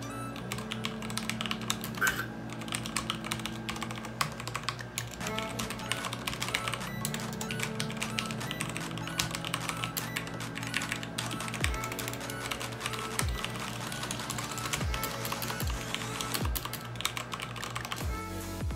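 Steady, rapid clacking of a HyperX Alloy Elite mechanical keyboard with Cherry MX switches, keys typed continuously and close up with no talking.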